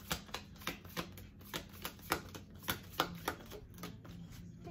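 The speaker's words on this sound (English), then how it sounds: "These cards are really difficult to shuffle." Tarot cards are shuffled by hand close up in a quick run of crisp riffling slaps, roughly a dozen irregular taps and flutters with no talk.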